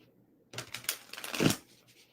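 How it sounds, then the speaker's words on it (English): Tarot cards being shuffled in a short burst of dense papery riffling and flicking, close and moderately loud, starting after a quiet pause and fading out near the end. "I don't want to ruin these cards by shuffling them that way"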